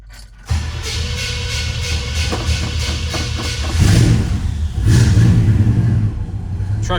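A 1968 Chevrolet C10 pickup's 327 V8 cranks and catches after a brief silence, then runs with a rough, throaty idle and a couple of louder revs, close and strong.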